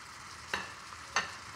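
Celery and onions stir-frying in a wok give a soft steady sizzle, broken by two sharp scraping strokes of the spatula, close and quiet with no voices.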